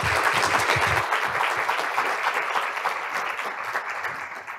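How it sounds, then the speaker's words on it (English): Full, sustained applause from a court-administration conference audience welcoming panelists, a dense wash of clapping that stays loud throughout and tapers only slightly, with no talking. "Can we please give our panelists a warm welcome of applause?"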